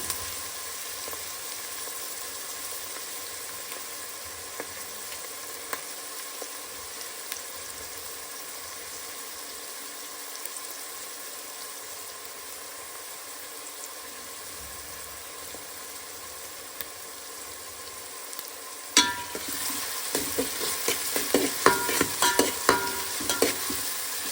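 Onions fry for a chicken gravy with a faint, steady sizzle in a pan. Near the end, louder stirring and scraping join in, with no one talking.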